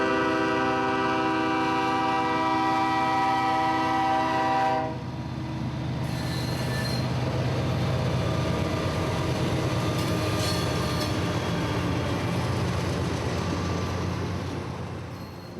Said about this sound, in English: .974 is a Florida Rock Industries unit train out of South Florida